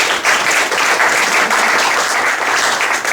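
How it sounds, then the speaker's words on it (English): An audience at an environmental event about the Salish Sea applauds, producing a steady, dense wash of clapping from many hands. It is loud and sustained throughout with no pauses, and no voices come through over it. "let's just give a round of applause to our representatives."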